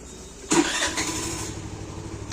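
A Hero Pleasure+ XTEC scooter engine cranks and catches, then settles into a steady idle close by, alone with no voices.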